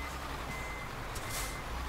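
Reversing beeps from a truck parking in Euro Truck Simulator 2, a steady warning tone sitting over continuous engine hum and broadband noise, with a brief hiss near the end.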